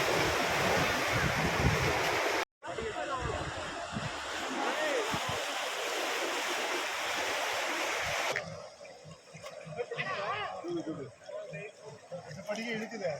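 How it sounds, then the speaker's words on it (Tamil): Water rushing forcefully over the Jittapalli check dam in Gudiyatham, Vellore district, a loud continuous roar that briefly cuts out, then returns and later eases into a lighter flowing wash, with someone talking over it. "எங்கள் ஊரில் இப்போ பாருங்கள் என்ன மாதிரி தண்ணி வருது, என்ன மாதிரி நல்லா எவ்வளோ ஃபோர்ஸாக போகுது பாருங்கள்"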